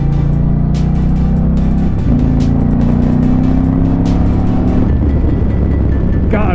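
An Indian Challenger Limited bagger motorcycle ridden fast on a road, with a loud sustained engine drone and heavy wind rush that hold steady throughout, the engine pitch shifting a couple of times.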